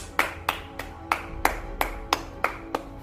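A single pair of hands claps about ten times in a steady, even rhythm. The claps are close and crisp over faint room noise, with no talking.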